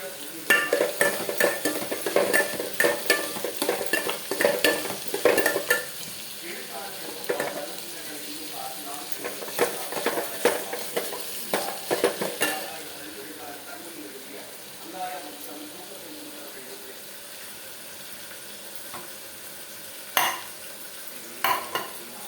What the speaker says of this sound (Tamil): வெங்காயம் தக்காளி வதங்கிடுது.